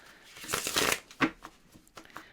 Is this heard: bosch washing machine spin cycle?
no